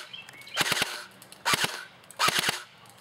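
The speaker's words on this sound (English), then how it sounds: "Now I'm going to shoot a little bit after I made a slight adjustment. Now I'm hitting the stump." Outdoor airsoft gun shots hitting a tree stump, three short bursts of sharp, close cracks with two or three snaps each, separated by brief pauses.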